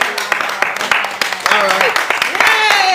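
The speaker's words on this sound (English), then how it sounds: "We clapped 5 times already." An audience claps, and brief sharp bursts of applause break in and out while a voice keeps talking over it.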